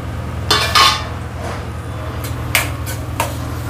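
Chopped tomato sautéed with softened onion in a pan, a metal spoon scraping and knocking against the pan a few times over a steady low hum of cooking.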